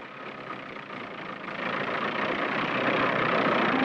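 A tractor engine strains as the machine pulls itself out of a hole in 1960s army documentary footage, a steady, rough drone that grows louder and heavier partway through, with no talking.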